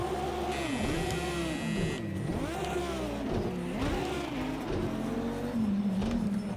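A Lamborghini Huracan GT3 race car in a racing video game tears across dirt, its engine revving hard and continuously with rising and falling pitch through shifts, loud and close, with no talking.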